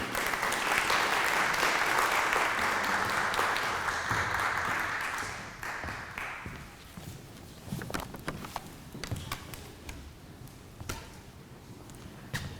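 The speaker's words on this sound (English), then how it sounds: "can we have a round of applause for Dr. Nilsson?" An audience claps after a speaker is introduced at a local history talk about a Roman Catholic church, a dense burst of applause for about six seconds that thins into scattered claps and fades, with a few faint thumps.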